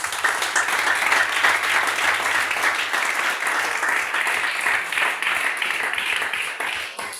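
Sustained applause and cheering from a large audience at a French-language church gathering, dense steady clapping throughout that fades slightly at the end, with no talk over it.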